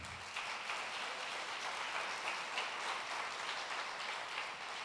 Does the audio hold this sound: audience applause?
yes